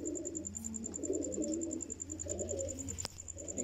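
Pigeons coo softly on a rooftop, low murmuring calls that roll on continuously at a modest distance, with a faint steady high whine running behind them.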